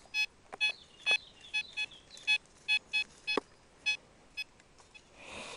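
A metal detector sweeps over ground holding buried wartime bullets, sending out a string of about a dozen short, evenly spaced electronic beeps, loud and close, with a faint rustle at the end.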